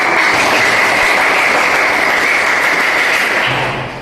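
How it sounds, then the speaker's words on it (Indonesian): A classroom of students breaks into loud, dense applause that fills the whole stretch, fading slightly at the very end. "Tepuk tangan untuk kita."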